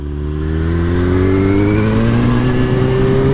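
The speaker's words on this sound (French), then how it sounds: "cette Aston Martin là-bas qui accélère" An Aston Martin accelerating hard nearby, its engine note loud and continuous as the pitch climbs steadily throughout.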